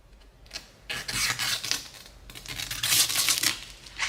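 Paint protection film being trimmed and torn along the door of a 2023 Ford F350, close-up continuous rasping, scraping and tearing with bursts of crinkle, no talking.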